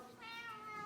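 Cat gives one close, drawn-out meow with a rising, whiny tone, indoors where a parrot is also about.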